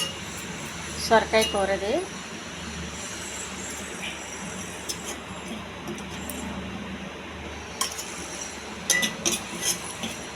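Containers clink and clatter while a lunch box is packed with bottle gourd curry, scattered bright metallic taps spread through the scene under steady background hum, and someone talks briefly near the start.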